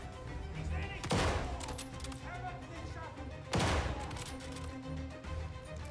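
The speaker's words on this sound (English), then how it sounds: "That shotgun fucking rules." Two heavy shotgun blasts from a video game trailer, each a sharp booming crack with a short decaying tail, spaced a couple of seconds apart over a low background, with a voice talking.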